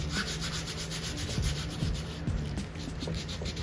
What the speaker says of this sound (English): Again, I'm going to go over it with the sandpaper